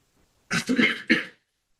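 Two harsh coughs in a courtroom, close to the microphone, a longer one followed by a shorter one, then silence.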